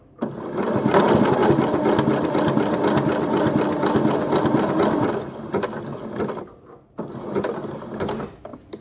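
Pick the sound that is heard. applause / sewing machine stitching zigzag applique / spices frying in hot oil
sewing machine stitching zigzag applique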